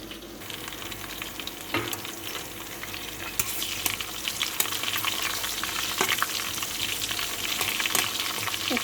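Chopped garlic, chopped onion and five or six green chillies fry in hot oil with a steady crackling sizzle, broken by occasional sharp pops and light stirring clicks.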